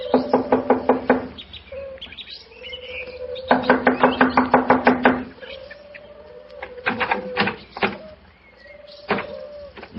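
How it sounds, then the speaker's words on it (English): Sharp raps on a door in an old radio mystery drama, coming in two quick, rhythmic bursts of repeated knocks with a few scattered taps afterwards, over a faint background of chirping birds. "I'll knock on the door."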